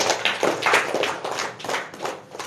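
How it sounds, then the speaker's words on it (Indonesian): A short burst of clapping from a small group, a quick uneven patter of hands at close range, with no voices. "Tepuk tangan buat Bunda Ida."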